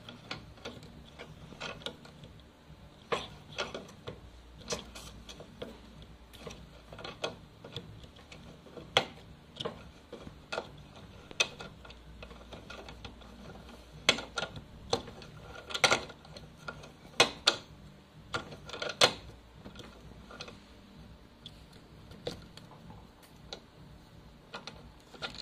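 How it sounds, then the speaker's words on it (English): Crank extractor being turned into the arm of a UNIMOKE fatbike crankset, giving a steady series of sharp metallic ticks and clicks like a ratchet, close and fairly quiet, with no talk. "Next step is to turn the extractor"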